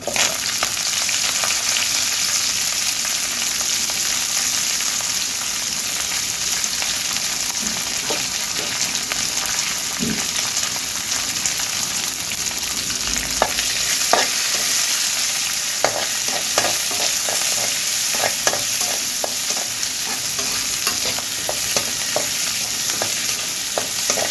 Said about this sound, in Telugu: ఇందులో ఉల్లిపాయలు పచ్చిమిర్చి ఎండుమిర్చి ఒకటి కరివేపాకు వేసుకొని వేయించుకుందాము